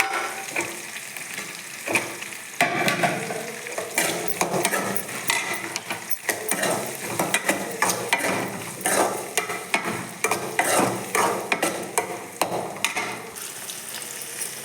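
Onions, garlic, asafoetida and curry leaves sizzle steadily in a pan of oil as they fry. A spatula scrapes and clacks against the pan in a continuous, busy rhythm throughout.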